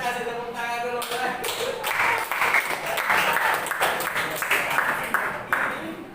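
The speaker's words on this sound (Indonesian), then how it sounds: "Kita kasih tepuk tangan dulu, boleh?" A classroom full of people bursts into applause, dense clapping building after a brief spoken prompt and continuing for several seconds, close and lively, with voices faintly mixed in.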